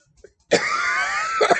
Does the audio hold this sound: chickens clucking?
no